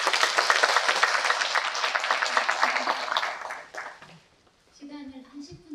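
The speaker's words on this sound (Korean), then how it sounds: "큰 박수로 모시겠습니다." An audience at a hospital pastoral committee symposium claps warmly to welcome a discussant; dense, steady applause fills the first few seconds, then thins and fades out as a speaker's voice begins.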